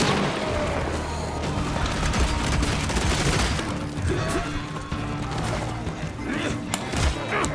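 Loud booming explosions and rapid gunfire crackle continuously, with dense chaotic crashes from a battle in the game Evil West filling the whole stretch.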